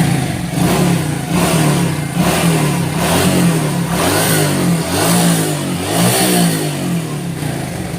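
A Suzuki Shogun motorcycle engine revs up and down repeatedly at close range, a loud throaty mid-pitched roar swelling and easing over several seconds with no one talking.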